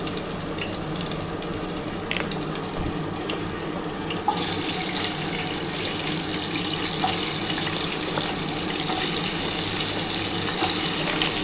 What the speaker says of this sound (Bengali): এই তেলের মধ্যে আমি আলুটা দিয়ে দিচ্ছি।